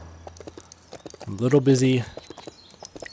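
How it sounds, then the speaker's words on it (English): Horse hooves clip-clopping at a steady walk while riding in the Lego City Undercover video game, with someone speaking briefly over the rhythmic clatter. "riding horses."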